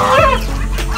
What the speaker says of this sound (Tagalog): Ang gansa.